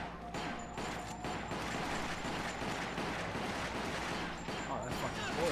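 Repeated gunshots in the video game Resident Evil The Umbrella Chronicles, a steady stream of fairly quiet shots over a dense game background with brief gaps.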